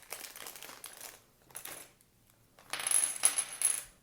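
Plastic betting chips from the Underleague board game clink and rattle together in short bursts, close up, with a louder jingling flurry near the end and quiet gaps between.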